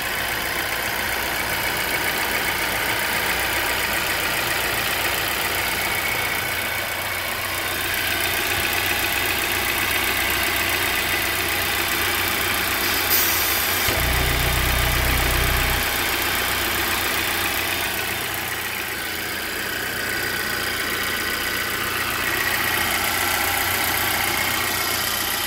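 A warm Volvo XC90 engine idles with the hood off, a steady running drone carrying a thin high whistling squeal, with a brief low thump partway through.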